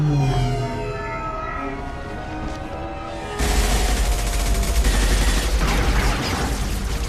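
Gunfire erupts in the video game Mass Effect 2 as a dense, loud volley of shots and blasts that cuts in suddenly halfway through, following a quieter stretch of tonal game music and ambience.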